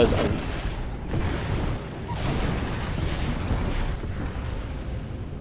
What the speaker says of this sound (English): He'll throw a flare down and rockets will come down from the sky.